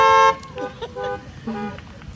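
Car horns honking from an audience at an outdoor film screening, a few short toots from parked cars, one loud blast at the start followed by fainter scattered honks.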